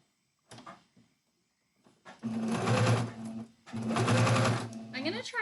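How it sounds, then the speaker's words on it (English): A sewing machine runs in two short bursts of steady whirring stitching along the edge of fabric, with a few faint handling clicks before it starts. "to try to sew as close to the edge as possible so that I don't have to trim it"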